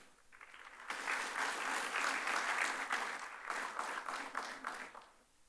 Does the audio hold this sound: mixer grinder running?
no